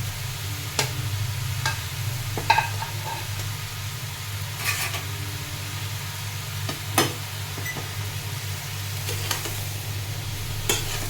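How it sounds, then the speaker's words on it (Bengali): Chopped bottle gourd is stirred in a sizzling pan, a low steady frying hiss with occasional spatula scrapes and taps spaced through the stretch. "ভালো করে একটু নেড়ে চেড়ে নেব"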